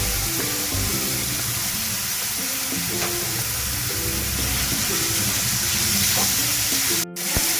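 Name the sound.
onion, carrot and capsicum frying in a pan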